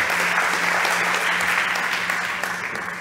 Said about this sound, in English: A big round of applause, please, for Delta Protect.